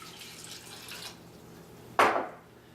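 Water poured into a pot of onions for sauerbraten gives a short, bright splash about two seconds in, fading quickly after a quieter stretch of low kitchen noise.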